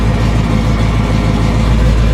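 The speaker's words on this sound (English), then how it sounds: "Our idle is running right about 850, 900 RPMs." A 1969 Chevelle SS idles at about 850 to 900 RPM with the electric fan running: a loud, deep, rhythmic engine burble that holds steady up close, with no voices.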